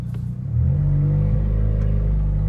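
A Honda Accord Sport 1.5T with a KTuner tune pulls away hard, its engine swelling into a loud, steady close-up drone from inside the car that holds for a couple of seconds.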